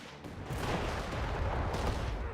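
Heavy gunfire in Company of Heroes 3, a dense, continuous rattle of many rifles and machine guns with rumbling low booms underneath, loud and unbroken.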